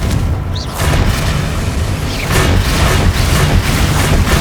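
Confringo fire-blast spell exploding in the Hogwarts Legacy video game, a loud, deep, rumbling boom with a crackling burst and a second surge of blasts later on.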